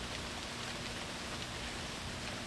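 Steady rain falls alone with no talk, a constant broadband hiss of drops spattering on nearby surfaces.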